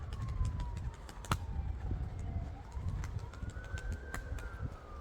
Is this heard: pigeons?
yes